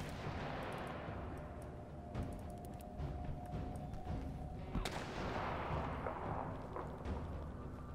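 Gunfire aimed at the player in the video game This War of Mine cracks out as scattered distant shots and one sharper nearby blast over a dense rumbling background.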